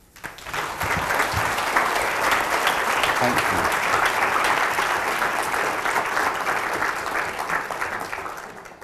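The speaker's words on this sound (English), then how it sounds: "please give a very warm round of applause to Dr. Xand." Sustained applause from a seated audience welcomes a speaker to the stage at a talk on Europe's refugee crisis, swelling quickly and holding steady for several seconds before tapering off.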